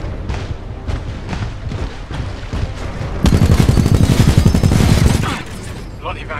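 Heavy gunfire from Titanfall 2 combat, a dense loud burst of rapid shots rising midway and then easing off, mixed with game noise and voices.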